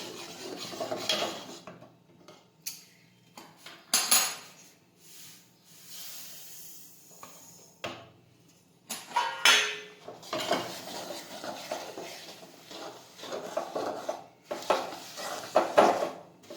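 Roasted sesame seeds are stirred into hot cooking syrup for sesame chikki, giving steady scraping, rasping and clinking of a utensil against the pan. The sound comes close up in uneven bursts with short pauses.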